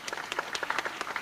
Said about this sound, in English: Give him a clap for that.